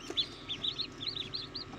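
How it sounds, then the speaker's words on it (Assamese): Ducklings hatched in an incubator give a rapid series of high, thin peeps, a dozen or so quick calls over a faint, quiet background. "এতিয়া দেখিবলৈ পাইছে"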